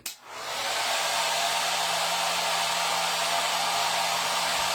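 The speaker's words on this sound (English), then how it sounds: "hair dryer goes on again" A hair dryer blowing on a wet wig switches on and blows with a loud, steady, breathy roar that continues without a break.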